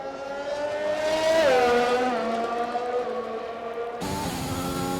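F1 race cars in a Mexico-track racing video game, Aston Martins among them, roar close by with a continuous high-pitched engine whine that shifts pitch as they accelerate and change gear, loud throughout with a sudden timbre change near the end.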